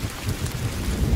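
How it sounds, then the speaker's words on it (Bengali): Cartoon rain pouring down, a brief low rumbling wash of heavy rainfall with a thunder-like undertone, loud and steady for about a second without any voices. "বৃষ্টি তো সবে মাত্র শুরু হয়েছে"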